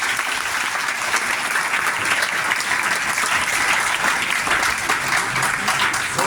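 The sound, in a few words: audience applause at a seminar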